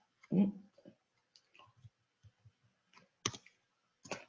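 Computer keyboard being typed on, heard as scattered light clicks and short bursts of keystrokes with irregular pauses, fairly close, and a person briefly talking near the start.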